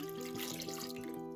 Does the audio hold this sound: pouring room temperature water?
yes